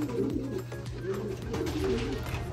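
A racing pigeon, a flying cock, coos in repeated low rolling phrases close by, steady and rhythmic against a background hum.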